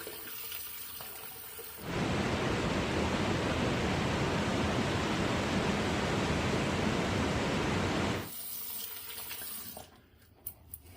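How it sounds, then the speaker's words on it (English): Steady rush of running water from a tap for about six seconds while a man rinses his face after a shave, loud and close, with quieter room sounds before and after. "And now I'm going to rinse off."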